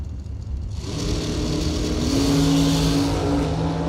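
Drag racing cars launch off the start line at a bracket race, a roaring engine rising sharply in volume and holding a loud, steady howl with tonal whine.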